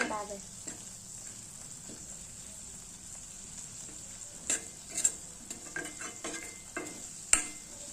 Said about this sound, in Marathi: मिक्स करायचं मिक्स करायचं आणि छान शिजू द्यायचं